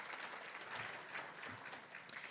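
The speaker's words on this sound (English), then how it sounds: "So give yourselves another round of applause" A dinner audience at an annual charity dinner and silent auction applauds, with many hands clapping in a soft, continuous, fairly distant wash.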